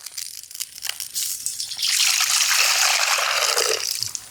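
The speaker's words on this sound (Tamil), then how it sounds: "ஒரு தண்ணி வைக்க போகிறோம்" Water is poured from above into a cooking pot at a village roadside cooking setup. Faint clatter comes first, then a loud, continuous splashing gush that fills in and runs for a few seconds before it tapers off.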